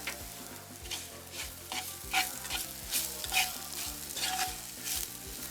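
Fenugreek seeds fry in a pan for a Jaffna-style drumstick curry, crackling and sizzling under regular, rhythmic stirring strokes. Up close, with no voices.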